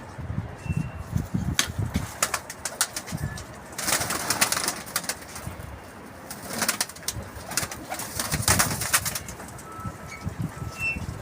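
Champion racing tumbler pigeons coo and stir in a loft, soft throaty calls repeating amid rustling and occasional wing flaps, fairly close with steady background noise and no talking.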